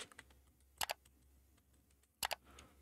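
A word is typed on a computer keyboard: quiet key clicks come in two short pairs, well apart, against a near-silent room.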